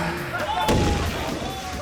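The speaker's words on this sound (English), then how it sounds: "And a whole heap of explosions." One heavy boom of an explosion rolls out over a steady noisy background, with a lingering rumble after the blast.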